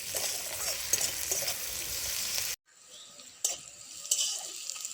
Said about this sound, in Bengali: পেঁয়াজগুলো ভালো মতো করে ভাজা হয়ে গেছে